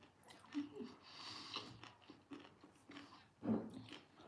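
Close crunching and chewing on pickles, a few crisp bites with soft squishy mastication between them, louder crunches near the start and end, with no talk over it.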